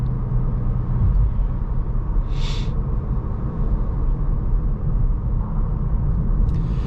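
Inside a 2024 VW Golf R manual cruising at 70 mph in sixth gear around 3,000 rpm, a steady low engine and road drone fills the cabin, with a brief higher whoosh partway through.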